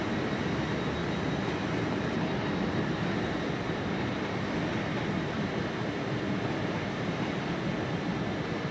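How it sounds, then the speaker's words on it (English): TfL Rail train departing London Paddington for Reading, a steady broadband rumble and rush of rail noise throughout, fairly close and continuous with no voices. "departing out now, TfL Rail service to Reading, 10:13 departure"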